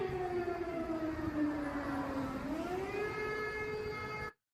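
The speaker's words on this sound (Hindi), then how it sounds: "कीव जो यूक्रेन की कैपिटल है, यहाँ पर आए दिन आप देखोगे इस टाइप के एयर सिग्नल्स, ये एयर सायरन्स ये बज रहे होते हैं।" Air raid siren wailing over Kyiv, Ukraine, a loud sustained tone that slides down, then rises again before cutting off abruptly, heard from some distance with no voices.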